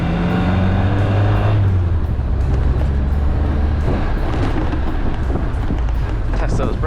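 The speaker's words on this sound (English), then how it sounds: "Shift into second gear." A Triumph Spitfire drives along with a steady engine drone and wind rush, the revs dropping as it shifts into second gear, heard from inside the car under a voice.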